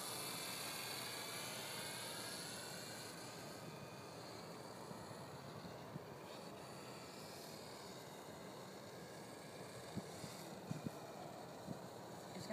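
A Mini Cub model airplane flies slowly in windy conditions, its small motor a faint continuous drone buried in steady broadband wind rush, with a few light knocks toward the end.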